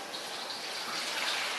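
Ambrosia poured from mason jars into a stainless steel bowl, a steady, close liquid pouring hiss that runs continuously without pause.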